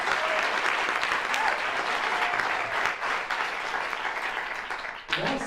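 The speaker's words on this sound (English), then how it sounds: "Worthy of applause." At a State of the State address, a large audience applauds loudly and steadily, a dense wash of many hands clapping that holds for several seconds before tapering near the end.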